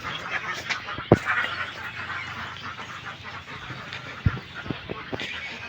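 Ducks kept inside a farm enclosure where ducklings are hatched, honking and quacking in a noisy overlapping chorus with a few sharp knocks. Faint voices sit underneath.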